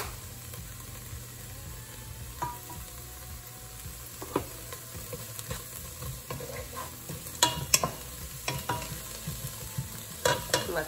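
Chopped onion with salt and pepper sizzles quietly and steadily in a pan, with occasional spoon scrapes and clicks that grow more frequent toward the end, and no voices.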